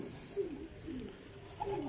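Pigeons coo softly in a few low, brief calls, faint and close, with a quiet background hum.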